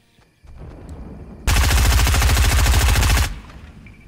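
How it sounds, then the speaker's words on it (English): Gunfire in Fortnite Chapter 2 Season 3 as a player shoots at a shark: one loud, close, rapid automatic burst lasting almost two seconds, set over quieter game ambience. "you can shoot the shark!"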